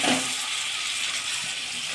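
Garlic paste and fish frying in a pan give a steady, close, broadband sizzle that stays even throughout, with no voices.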